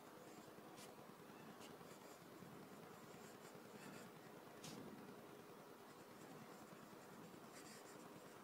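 A Hero 1219 fountain pen writes across paper, making a soft, continuous close scratching and rubbing with a few brief stroke accents.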